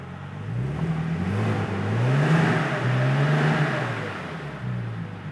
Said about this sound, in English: A little rev for you guys at home.